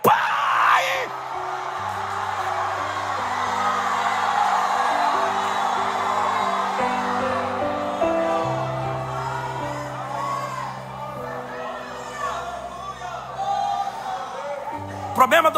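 Church congregation shouting and crying out during a Portuguese-language service, a loud sustained wall of many voices yelling and whooping over sustained organ-like keyboard chords, fading somewhat toward the end.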